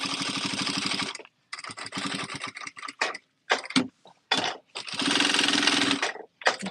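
A sewing machine runs a basting stitch in bursts, rapid mechanical chatter starting and stopping several times with short pauses between runs, close and fairly loud.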